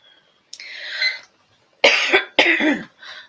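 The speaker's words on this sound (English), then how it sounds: "So I do apologise for coughing." A person coughs several times in short harsh bursts, a single cough followed by a pair and a softer final one, close by.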